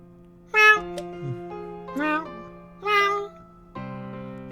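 A person's voice imitates a cat meowing, giving three drawn-out, rising-and-falling meows over steady background music from an adventure game.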